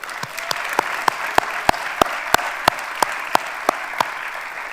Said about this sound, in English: Please join me in a round of applause for those awardees.